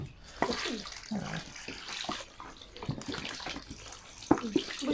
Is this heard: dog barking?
no